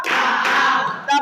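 A classroom of students performs a short patterned clapping chant called tepuk 2, a brief burst of many hands clapping together, ending in a sharp louder clap.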